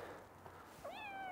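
A cat meows once near the end, a clear, fairly close call over a quiet, hissy background with no talk.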